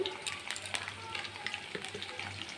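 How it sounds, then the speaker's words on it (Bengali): Potatoes crackle and sizzle in oil nearby, with busy irregular spatters and a faint low hum underneath. "এই যে এখন আলুটা ভাজছি"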